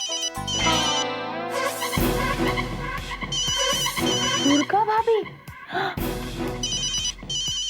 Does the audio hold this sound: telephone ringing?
yes